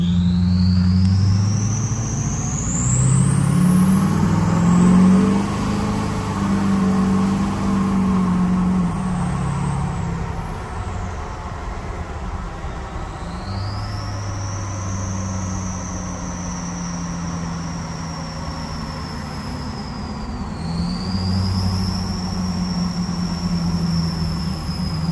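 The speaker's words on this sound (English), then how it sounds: "Absolutely insane turbo noises." Larger drop-in turbocharger on a Duramax diesel truck with a stainless five-blade setup, its whistle climbing and falling in long sweeping pitch glides over a loud, steady engine rumble that surges and settles, with no talk.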